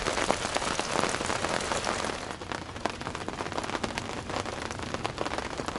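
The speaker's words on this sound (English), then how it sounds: "I think that was the last little bit of rain there" Steady rain hisses on surfaces, dense and close, with scattered heavier drops and patters ticking through the wash of noise.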